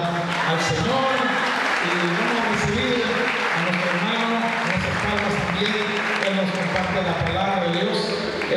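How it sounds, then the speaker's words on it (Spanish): Church congregation giving loud, sustained applause to welcome a pastor at a TV channel's tenth-anniversary event, dense clapping filling the whole stretch with crowd noise mixed in. "denle un fuerte aplauso"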